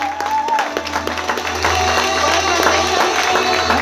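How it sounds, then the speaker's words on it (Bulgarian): Guests at a wedding celebration clap steadily for the bride in a crowded room, with a constant low hum and faint voices behind the applause. "Аплодисменти."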